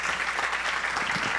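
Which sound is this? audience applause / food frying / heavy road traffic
audience applause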